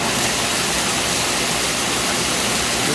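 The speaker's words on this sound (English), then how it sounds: "that's the main pump on low. You can see how loud it is." An old hot tub's main pump runs on low, a loud steady broadband rush of churning water and motor noise, close and continuous with no talking.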